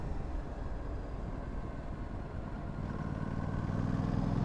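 An Aprilia RS457 motorcycle riding along a highway at night in fourth or fifth gear, a continuous dense engine drone and road roar, steady and close, building slightly toward the end, with no talk.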